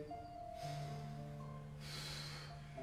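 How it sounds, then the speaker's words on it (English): Two deep breaths are drawn in and let out during a Pilates floor exercise, soft airy whooshes over sustained background music tones. "Nice big breathing."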